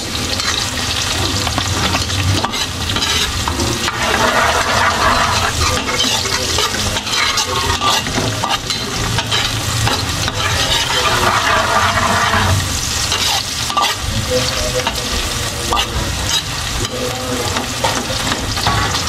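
Onions fry loudly with garlic in a pan, a dense, continuous close-up sizzle that barely changes over nearly twenty seconds, with stirring noise underneath.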